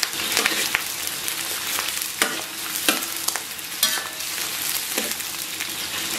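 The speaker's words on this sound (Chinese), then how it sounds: "咱们把提前准备好的洋葱再下到锅中爆香" Onion, scallion and ginger frying in warm oil in a wok: a continuous close sizzle broken by repeated sharp clacks and scrapes of a spatula stirring, with no talk.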